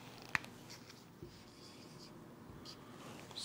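Faint, close scratching of a pen writing on paper, with a couple of soft taps, under a quiet room hiss and no speech.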